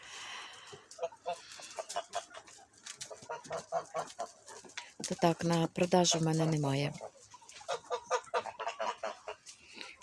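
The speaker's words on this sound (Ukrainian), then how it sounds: "Курочки такі молоденькі, вже й не погані." Hens cluck and murmur softly in short bursts, with a louder rising squawk midway, while a person speaks nearby over them.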